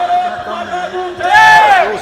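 Protest crowd at Jantar Mantar, energetic voices chanting and cheering close by, swelling louder toward the end of a brief burst.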